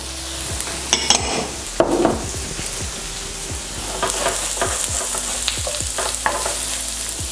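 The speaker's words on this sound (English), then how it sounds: "now I'm going to add this onion and the garlic" Onion and garlic sizzle and fry in a pan beside browning gnocchi, with steady crackling broken by a few stirring scrapes and clinks, close and fairly loud.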